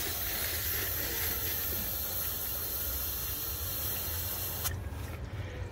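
Air hisses steadily out of a water filtration system in a tiny house in the Philippines. The faint, continuous spray-like hiss goes on evenly, then cuts off abruptly near the end.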